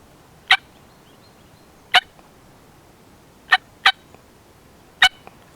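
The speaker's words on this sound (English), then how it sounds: "So that's a cluck." Five short, sharp turkey clucks from a box call, spaced irregularly over a few seconds against quiet background.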